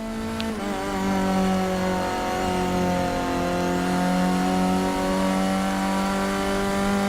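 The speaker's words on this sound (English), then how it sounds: "Listen to the engine." A Formula 4 race car engine in Forza Motorsport 6, a loud, steady high-pitched engine note holding near-constant revs for seven seconds with slight pitch shifts, no talk.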